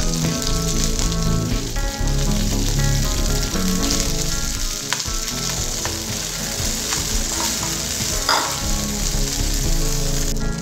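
Green chillies fry in hot oil in a pan, a loud, close, crackling sizzle that runs throughout with a steady underlying hum.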